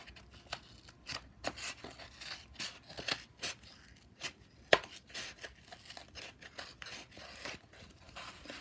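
Scissors cutting through a cardboard egg carton, with a quiet series of irregular snips and crinkly tearing sounds close up, without speech.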